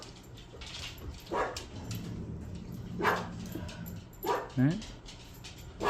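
Two dogs square off, letting out low growls along with whimpers and yips in short bursts, while a person speaks briefly nearby.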